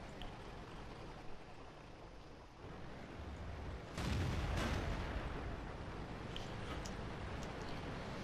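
Tank cannon fire in World of Tanks from a T34 battle: a steady rumbling battlefield bed broken midway by one loud, heavy boom that leaves a raised roar behind it, with no voices.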